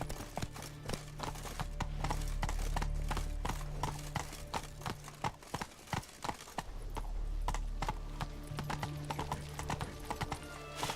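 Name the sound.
horse Roach galloping, from the video game The Witcher 3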